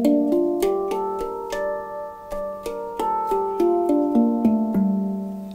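Mini hang drum, 48 cm, in G pygmy tuning, struck as a clear melodic run of ringing tones with sustained overtones, played alone and close with steady strikes throughout.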